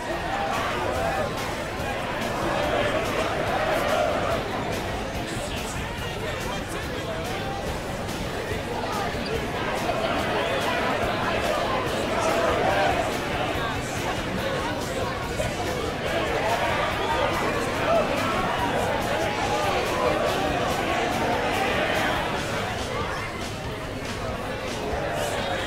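Saints Row IV crowd cheering and roaring in a steady, dense wash of voices that swells and dips, with a lone voice speaking over the ongoing crowd noise.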